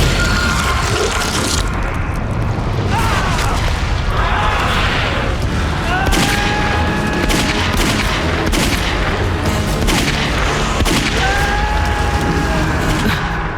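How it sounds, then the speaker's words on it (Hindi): Loud, dense bursts of automatic pistol fire and booming impacts cracking repeatedly in fast succession, with whining tones cutting through the clamor. "गोली चलने की आवाज। नेल्सन की। या किसी और की? नहीं, ये P85 ऑटोमेटिक थी"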